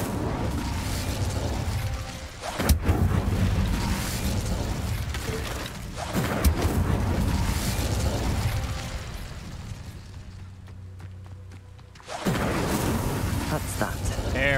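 Incendio fire spell cast in Hogwarts Legacy: loud whooshing, crackling blasts and mechanical ratcheting bursts in repeated waves, with a brief quieter lull before the roar returns; a voice speaks over part of it.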